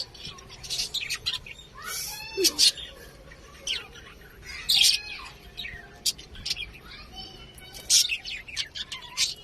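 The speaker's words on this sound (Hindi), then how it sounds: "ये तो नीचे भी तोते हैं।" Australian parrots chirp and squawk in sharp bursts at close range, calls repeating every few seconds while people talk quietly nearby.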